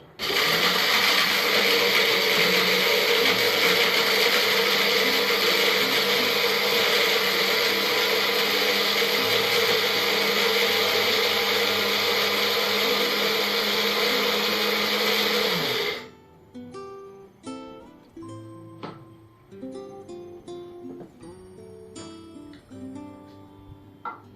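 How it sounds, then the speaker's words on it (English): An electric blender grinding dried okra roars loudly and continuously for about fifteen seconds, then cuts off, leaving scattered clicks and light knocks. "Get your grinded okra, put it inside the blender."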